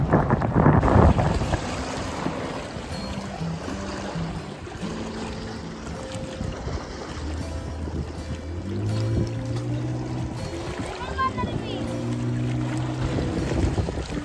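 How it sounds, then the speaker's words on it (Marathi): A motor rescue boat on a dam lake at Panshet Dam, its engine droning steadily with rising and falling tones over wind buffeting the microphone and water noise, fairly loud throughout with no talk. "पॅडल बोटला रेस्क्यू करण्यासाठी मोटर बोट आलेली आहे"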